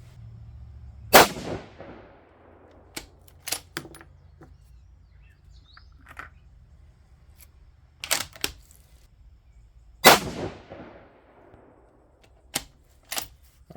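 A Mossberg Patriot Predator rifle fitted with an EC Tuner muzzle brake fires two loud, sharp shots about nine seconds apart outdoors, with fainter clicks and knocks between them.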